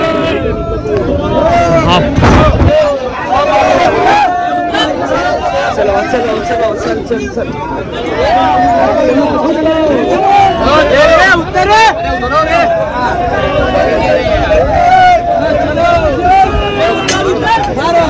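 Packed Mumbai local train platform, a dense crowd roar of many overlapping voices, shouts and shuffling, loud and close, with people talking and calling out throughout.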